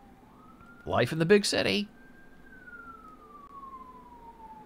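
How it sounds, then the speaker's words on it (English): Emergency vehicle siren in a city, a sustained wailing tone that rises then slowly falls as it passes at a distance, with someone talking briefly over it. "Oh, the sirens are coming for me again."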